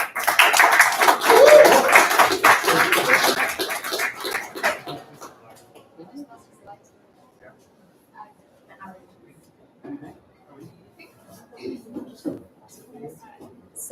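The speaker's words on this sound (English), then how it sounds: "give them a round of applause" Audience at a startup demo night gives a burst of dense applause that fades after about four seconds, followed by quieter room noise and a speaker talking.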